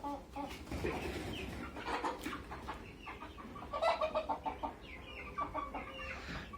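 An Ottoman sultan rooster and hens cluck and chatter close by in an irregular run of short calls, with one louder burst near the middle.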